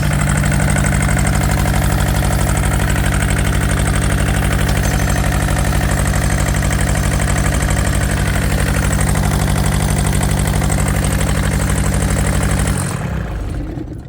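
A Yanmar diesel engine, not running on all four cylinders, idles roughly and loudly with an uneven knocking chug for about thirteen seconds, then cuts off abruptly near the end.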